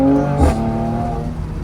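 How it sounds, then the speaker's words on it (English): A Mercedes-AMG C43 revs hard at close range in a short burst, with a sharp engine bark near the start that settles into a steady droning tone. "This car definitely sounds amazing in those gears"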